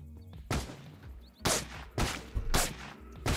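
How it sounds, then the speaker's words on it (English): Gunfire in Apocalypse Rising 2, a Roblox-style survival shooter: four loud, sharp broadband shots spaced about half a second to a second apart, each with a short decaying tail over low game ambience. "We're gonna shoot the guy whoever gets in the driver's seat"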